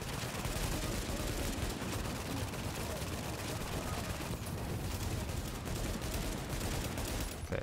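Turret fire in The Division, a continuous dense roar of rapid automatic shots that fills the whole stretch at steady loudness, cutting off briefly near the end.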